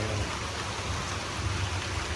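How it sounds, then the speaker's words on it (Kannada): Heavy rain pours at a resort, a dense and steady hiss with a low rumble underneath, continuous throughout with no voices. "ಅದು ಫುಲ್ಲು ಮಳೆ."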